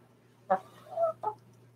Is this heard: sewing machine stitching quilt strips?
no